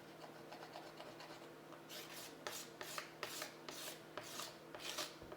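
A metal blade scraping worn plastic to remove scratches and gouges, a faint steady rasp at first, then a run of sharper repeated scraping strokes in an even rhythm, close and quiet, with no voices.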